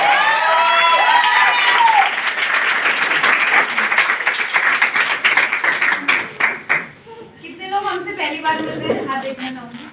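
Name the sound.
loud applause and cheering from audience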